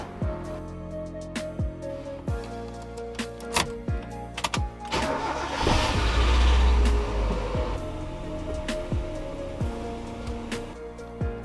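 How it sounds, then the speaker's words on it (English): A Mazda Miata fitted with an aftermarket coolant gauge cranks and fires up, then idles with a steady engine hum punctuated by sharp clicks and clunks, with a louder rushing surge midway before it settles again. "all that's left to do is start the car and try it out."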